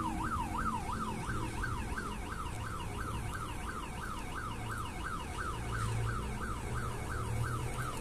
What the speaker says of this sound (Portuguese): Dispara o alarme de alguma casa aqui.